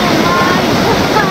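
Broadband rushing roar of a large, roughly 100-metre waterfall in Nejapa, steady and loud throughout, with a voice faintly under it.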